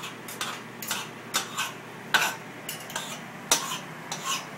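A fork chops food in a stainless steel pan, sharp metallic clacks and scrapes landing in an irregular series of about a dozen strikes, close and distinct with no talking.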